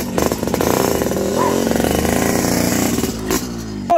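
A motorcycle engine revs loudly and close by, a buzzing, rising and falling drone held for several seconds before cutting off, with no talking.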